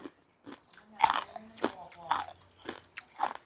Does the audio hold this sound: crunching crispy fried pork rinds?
yes